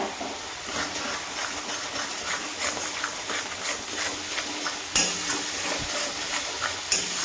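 Spiced masala for a prawn curry with potato and pointed gourd is sautéed and stirred in oil in a pan. It gives a continuous close sizzle and hiss, broken by scraping spoon strokes and occasional sharper clinks.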